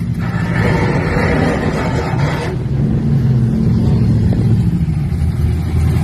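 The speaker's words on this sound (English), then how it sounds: "Just sitting here watching the cars roll out for the day." Cars roll out at a hot rod tour event, engines revving and rumbling loudly nearby as one vehicle passes and others idle and pull away.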